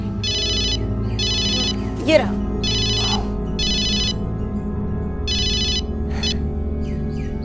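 A mobile phone ringtone plays in bursts of repeated electronic tones with short gaps, in a quiet room with a low background hum; a brief line of speech comes in partway through.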